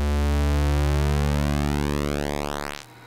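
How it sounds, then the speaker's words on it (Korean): An analog modular synthesizer oscillator plays a steady square wave while its pulse width is swept by a knob. The buzzy tone audibly thins and shifts as the pulse narrows, then drops out abruptly near the end. "그래서 이 노브 하나로 이 폭을 예, 조절을 할 수 있어요."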